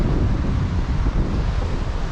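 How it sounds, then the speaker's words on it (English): Strong wind roars and buffets steadily across the microphone, a dense, low rumbling rush with no voices. "it's actually very windy"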